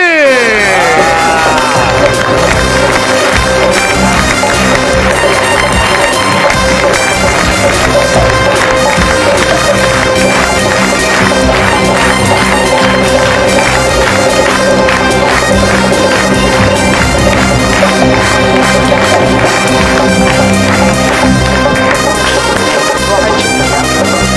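A studio audience at a comedy talk show applauds and cheers loudly and continuously as a guest is welcomed, with music playing underneath.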